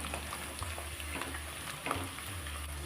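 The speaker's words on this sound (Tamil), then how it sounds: "பூடு இஞ்சி ஆயிலேயே வசங்கட்டும்" Chopped garlic and small-cut ginger frying in oil for an ice apple pickle, giving a steady faint sizzle with occasional soft crackles and a low hum underneath, no voices.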